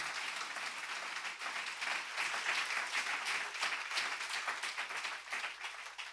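A large church congregation applauds in a dense, continuous wash of clapping that swells slightly and holds steady throughout, heard from some distance.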